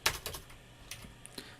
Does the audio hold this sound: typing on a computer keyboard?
yes